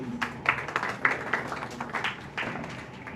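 Audience applause at a school professional learning community session, a dense patter of many hands clapping steadily for about three seconds with no talking, moderately loud and fairly close.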